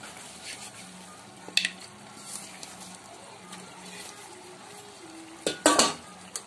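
Mutton is stirred with tender tamarind leaves in a pot, producing soft scraping and a light sizzle, with scattered clinks of a metal spoon against the pot and a louder cluster of clanks near the end.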